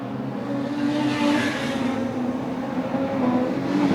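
A race car roars steadily along the track during a circuit race, its engine note sustained and fairly loud throughout, with a broad droning rumble and no talk.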